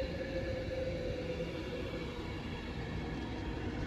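Train rumbling through Bletchley station, a steady broad roar of wheels and engine noise that holds evenly throughout, moderately loud with no voices.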